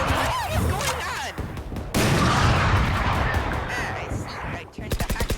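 Gunfire from a shooter video game sounds as a dense, loud barrage of shots across most of the span, with a sharp volley of rapid, evenly spaced bursts near the end, and talking mixed in.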